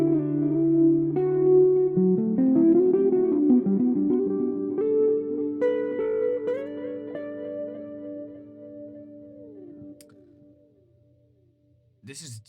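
Electric guitar played through an amp simulator on a crunch preset with delay, a melodic line of sustained picked notes with echoing repeats that fade toward the end, close and clear with no talking.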